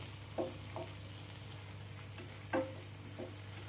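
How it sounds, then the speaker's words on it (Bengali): Tomato and onion fry in a pan with a steady low sizzle, broken by two or three brief stirring scrapes; close, fairly quiet and without talk. "টমেটোটা আমার পেঁয়াজের সাথে ভালো করে ভুনা হয়ে গেছে।"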